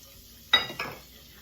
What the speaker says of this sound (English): Get it stirred up in there, cooking the flour off of the butter.